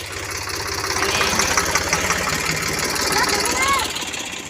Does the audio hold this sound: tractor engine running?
yes